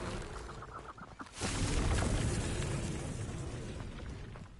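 A fiery Confringo spell blast in Hogwarts Legacy on PS5, a sudden booming burst that swells about midway and then rolls on as a loud, sustained crackling roar.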